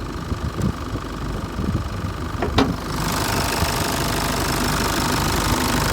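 A 2012 Renault Koleos engine idles with a steady rumble, a couple of sharp clicks partway through, then the noise grows louder and fuller.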